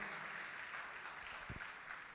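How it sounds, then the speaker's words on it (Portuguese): A church congregation applauds at a sermon, a continuous wash of clapping that stays faint and distant, with a brief low thump partway through. "Vamos aplaudir ao Senhor"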